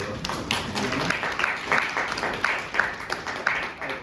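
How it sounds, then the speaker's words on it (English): Scattered, sparse clapping from an audience at a congressional briefing, uneven and moderately close, with a voice murmuring faintly underneath. "you can give a round of applause for"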